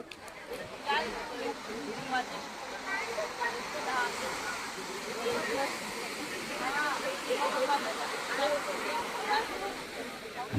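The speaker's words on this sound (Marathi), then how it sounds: "4-5 लाटा वाहून यायला लागल्यात" Sea surf rolls in continuously at Versova Beach in Mumbai, a steady wash of breaking waves with a crowd murmuring faintly in the background.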